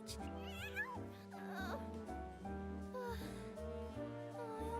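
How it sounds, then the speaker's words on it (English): A video game cat mews and trills in a high, wavering voice over a steady backdrop of tonal game music, the cries rising and bending several times in a few seconds. "The cat sounds are really realistic."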